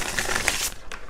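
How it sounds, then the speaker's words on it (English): Tarot cards being shuffled by hand, a papery riffling and shuffling that runs steadily through the moment at close range with no talk. "I'm going to put those back because I'm going to shuffle."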